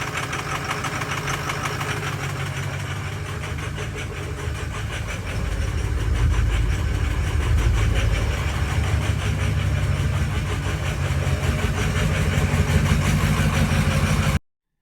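A 6.0 Powerstroke diesel engine swapped into a 1959 Ford F100 idles with a loud, steady knocking rumble, growing a little heavier partway through and running on without any talk.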